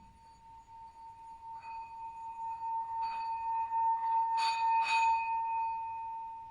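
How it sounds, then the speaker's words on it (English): A single meditation bell rings with a sustained, shimmering tone that swells gently and keeps resonating, clear and alone. "In a moment, I will sound the bell to mark the end of today's meditation."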